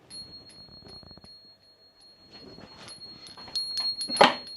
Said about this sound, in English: It's a little mindfulness bell that you put onto a door. I've got mine on the fridge, and when you open it, it tingles.